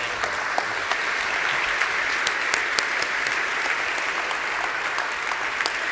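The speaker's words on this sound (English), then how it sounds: "An extra round of applause for our honorees." A crowd at a business peace award ceremony in Oslo claps in sustained, dense applause that holds steady throughout, with no voices rising above it.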